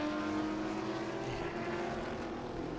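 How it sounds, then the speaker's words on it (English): A Bentley race car drives along the Rahal straight at Laguna Seca Raceway during a vintage racing event, its engine a distant, steady drone heard faintly over a live broadcast's background. "there goes one of the Bentleys."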